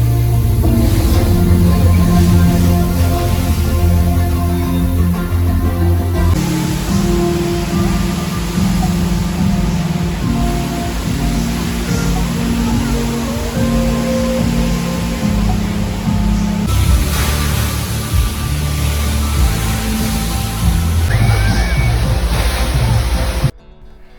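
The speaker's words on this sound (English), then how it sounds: "dip our feet in the waterfall that crashes to the ground before disappearing into the stones" A water feature waterfall at Expo 2020 in Dubai crashes onto the ground and drains into stones, a loud, continuous roaring wash of falling water with no talking.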